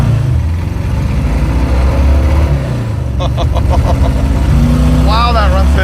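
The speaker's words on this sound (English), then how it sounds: "That sounds exactly like a Volkswagen air-cooled." Rough, lumpy engine idle from a car running on disabled cylinders, sounding like an air-cooled Volkswagen: a loud, uneven low chugging throb that continues throughout, with people talking over it partway through.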